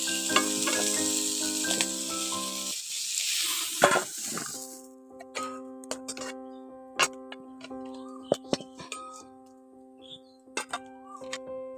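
Young jackfruit pieces sizzle in oil, loud and dense at first, then settling into a quieter fry punctuated by repeated sharp ticks and clicks of a utensil.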